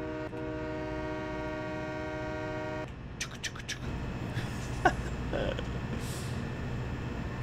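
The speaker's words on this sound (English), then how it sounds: "just chilling out in the train" A train in Farming Simulator 2017 sounds a long sustained horn chord, then rolls on with a steady rumble and occasional clanks, loud and close.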